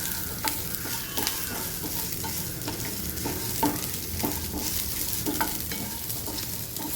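Onions and tomatoes sautéing in oil for a tomato masiyal, a steady crackling sizzle with repeated scraping stirs of a spoon against the pan, close and unaccompanied by speech.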